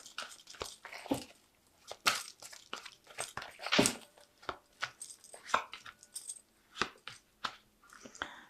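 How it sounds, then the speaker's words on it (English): Fairy Tarot cards drawn and handled up close, a busy string of crisp rustles, flicks and soft taps in uneven rhythm, no voices. "So I'm just going to draw some cards from the Fairy Tarot"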